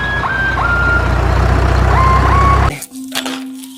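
A toy sand truck beeps repeatedly as it reverses, a high electronic tone pulsing over a loud engine rumble. The sound cuts off abruptly near the end, leaving a short, quieter electronic hum.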